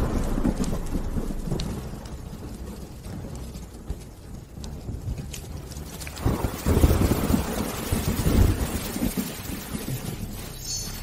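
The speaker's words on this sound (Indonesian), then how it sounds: "Hujan mulai turun." Rain begins to fall in a steady, dense patter as the wind picks up, with heavier bursts and low rumbles swelling partway through.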